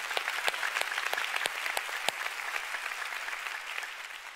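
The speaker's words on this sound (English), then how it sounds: "Come on, church, go ahead and give the Lord a great clap." A church congregation applauds for the Lord, a dense, even wash of many hands clapping at moderate distance, with a few sharper individual claps standing out and no talking.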